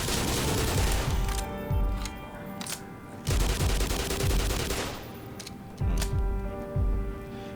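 Video game gunfire in Black Mesa rattles in dense bursts, with repeated low booming shots layered over continuous loud automatic fire that swells and dips across several volleys, and no talking.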